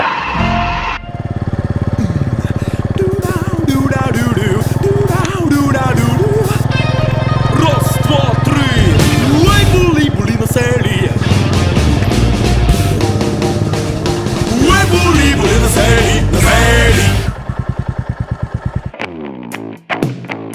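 A Bajaj Boxer motorcycle rides along a forest off-road trail, its single-cylinder engine droning loud and close and shifting pitch as the throttle changes, before cutting out near the end.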